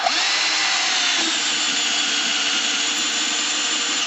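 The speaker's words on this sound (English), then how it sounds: "I'm going to drill straight up and down as I can, right about there." A power drill runs steadily at high speed for the whole clip, a loud continuous whine boring into attic wood with no pauses.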